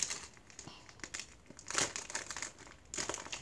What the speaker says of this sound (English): Today we're opening some Pokemon booster packs, so here we go. I'm gonna go open it.